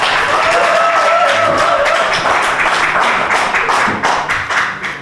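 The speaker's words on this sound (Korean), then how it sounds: "많은 박수 부탁드리겠습니다." Applause from a press conference audience in Gwangmyeong, with dense overlapping hand clapping over the full span, loud at first and thinning toward the end, with no talk over it.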